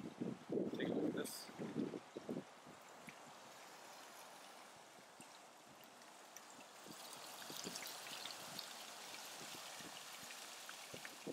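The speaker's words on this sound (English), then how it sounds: "A little waterfall in front of the Tempe Art Center." A small waterfall in front of the Tempe Art Center gives a steady, soft wash of falling water, continuous and fairly faint, with a few louder bumps and rustles at the beginning.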